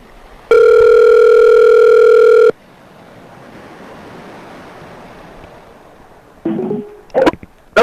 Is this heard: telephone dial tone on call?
yes